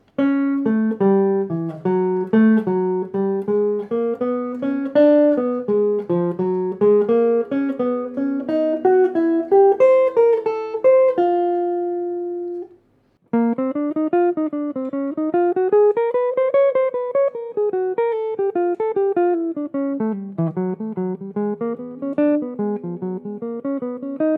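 A single melodic instrument plays a flowing jazz line of quick, connected notes from a jazz etude, holding one long note midway and then continuing the phrase after a brief pause.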